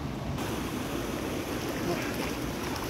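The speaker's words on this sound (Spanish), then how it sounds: "de donde baja este río que viene del Parque Nacional de los Nevados. O sea que es un río con agua de glaciar." A glacier-fed river runs through Andean forest in a steady, dense rush of water, loud and continuous with no breaks or voices.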